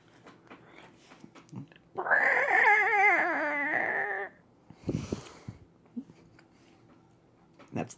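A person vocally imitates the alien creature from the film Aliens, a loud, wavering shriek lasting about two seconds, followed by quieter chewing and mouth sounds while eating a large burrito.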